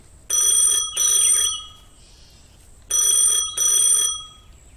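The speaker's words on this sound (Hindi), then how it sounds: "तभी उसका फोन बजता है" A telephone bell rings in two double bursts, loud and close, with a short pause between each pair and nothing else around it.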